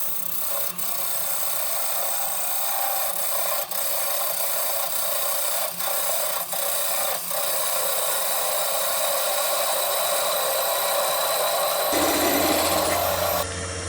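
Steady rasping scrape of a turning tool cutting a tenon on wood spinning in a lathe, continuous and close for most of the clip, with a few sharp ticks and a lower hum toward the end.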